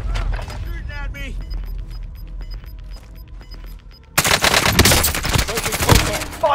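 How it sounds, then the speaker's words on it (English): Warzone gunfire, with repeated single shots and bursts of automatic fire at mid distance, then a sudden loud, close barrage of overlapping shots and mechanical clatter in the final seconds. "Shooting at me."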